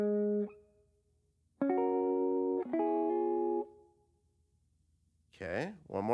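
Electric guitar playing a short gospel praise break figure: a few ringing sustained chords and slides in separate phrases with gaps between, then a brief burst of talk at the end.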